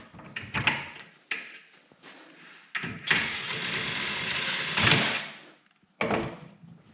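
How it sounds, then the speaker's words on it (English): A bench vise slides into the front tube of a DIY folding metal workbench in a garage, giving a long scraping metal rasp of about two seconds, preceded and followed by several sharp clunks and knocks. "So we can just slide the vise right into the front."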